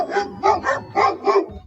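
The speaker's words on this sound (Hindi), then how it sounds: "लेकिन गांव के सभी कुत्ते भौंकने लगे।" Village dogs barking in an animated story, five quick rhythmic barks in a row, close and clear with short gaps between them.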